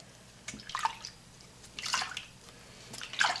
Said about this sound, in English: just gonna lightly rinse him off again